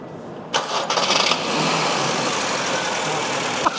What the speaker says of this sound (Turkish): Bir çalıştırırız böyle yağ güzel bir şekilde otursun motorun içine.